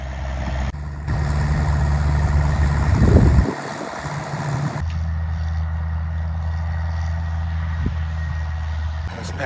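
A Massey Ferguson 165 tractor engine running steadily while working a field, a low continuous drone with a brief surge partway through, heard alongside a voice talking.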